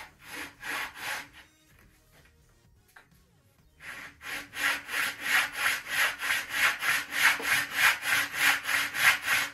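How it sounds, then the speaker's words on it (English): Wood on the 60-grit side of a sanding block for a model P-40E Warhawk flap: a pause, then a steady run of rhythmic rasping strokes, close and fairly loud, about two per second. "So I'll sand that a little more. It's not too much. I'll use this 60 grit side first."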